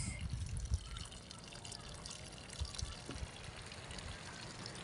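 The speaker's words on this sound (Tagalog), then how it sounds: "Tubig tabang po ang binubuhos niya sa loob." Fresh water poured into the inside of a small wooden fishing boat (bangka) during cleaning, a steady splashing pour and trickle running throughout at moderate, close range.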